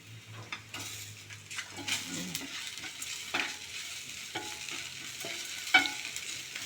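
Something is frying in a pan on a home stove while a spoon stirs it, giving a steady close sizzle with scraping strokes and occasional clinks of utensil against metal, without any talk.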